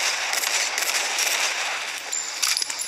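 Explosive sniper rounds going off in the video game MC4, a dense run of loud crackling blasts and pops packed close together with no talk over them.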